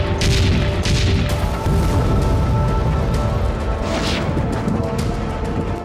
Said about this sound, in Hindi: जहाज पर एक धमाका हुआ और उससे आग की लपटें और धुआं उठने लगा।